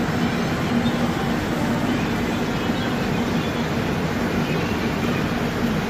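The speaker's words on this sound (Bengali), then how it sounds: "কানপুর সেন্ট্রাল থেকে আমাদের ট্রেন ছেড়ে দিল" From inside a 3rd AC coach of the 12313 Sealdah–New Delhi Rajdhani Express pulling out of Kanpur Central in rain, a steady low rumble and wheel hum, constant and close, with no voices.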